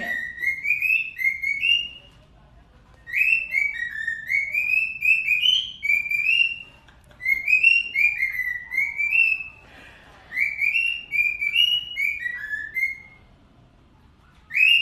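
Whistled rendition of the Grêmio football club anthem, used to teach cockatiels, heard as clear, bright melodic phrases in repeated bursts with short pauses between them, close and fairly loud, with no talking.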